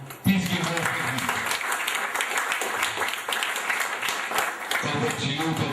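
An audience applauds to welcome a doctor to the stage at a wellness seminar, steady crisp clapping that fills the room for several seconds with voices faintly mixed in.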